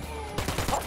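Gunfire in the Ghost Recon Wildlands video game: a loud burst of rapid shots starts partway through and continues as a dense, rattling volley with no talking.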